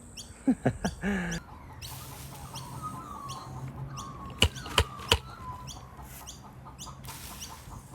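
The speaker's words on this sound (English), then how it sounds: "Chicken's coming in to have a look." A chicken clucks a few times nearby, with short sharp calls over a faint outdoor background and occasional soft bird chirps.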